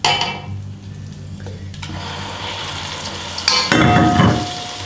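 Cheese curds broken up and stirred in a pan over low heat on a wood cook stove: soft scraping and sizzle with a few utensil clinks, swelling louder near the end.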